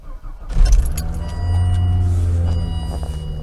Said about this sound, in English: Let's just fire up the engine.